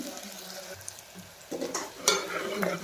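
A large onion sautéing in oil for a mutton mince dish, with a quiet start and then a close sizzle with scraping spatula strokes and a sharp clatter of stirring.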